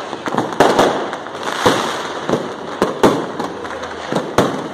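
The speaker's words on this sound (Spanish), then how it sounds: "Los cohetes se sueltan," New Year fireworks and firecrackers in Peru going off in a dense, continuous crackle, with sharp louder bangs popping every half second or so, close and loud throughout.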